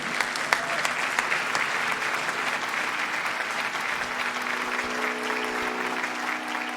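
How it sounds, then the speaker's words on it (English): Steady, dense applause from the audience at a Bharatanatyam arangetram dance performance after a Varnam, sustained evenly throughout with no talk over it. "Let us give her a big round of applause for taking up such a beautiful Varnam"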